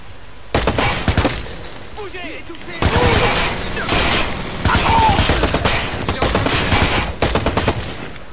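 In the Watch Dogs video game, repeated rifle bursts and gunshots hammer in dense, loud volleys with short pauses between them, while players talk over the firing.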